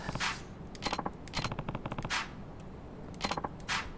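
Gunfire in the video game Yakuza 3: several short, sharp bursts of rapid shots with brief gaps between them, close and loud, with no talking.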